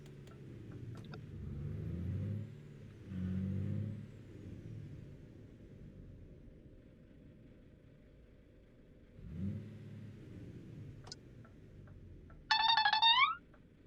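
Iveco T-Way truck engine in Euro Truck Simulator 2, a low diesel rumble that revs up in a few surges and settles back to idle, ending with a short electronic chime.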